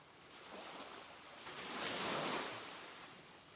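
Waves washing onto the shore at the coastal village of Jongdal-ri in Gujwa, Jeju, a soft, fairly faint surf wash that swells to a gentle peak midway and then recedes.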